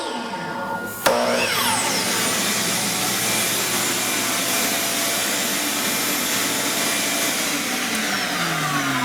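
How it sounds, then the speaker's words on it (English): Shop vacuum for dust collection kicking on with a saw in a small garage woodworking shop, starting abruptly with a sharp onset, then a loud, steady, whooshing roar that continues to the end. "It automatically turns on the vacuum"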